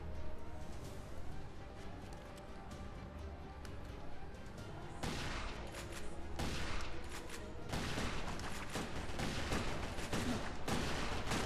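Rapid bursts of video game gunfire in the action game Headhunter, including a shotgun, crackling in dense volleys over steady game music and ambience, growing busier and louder in the second half.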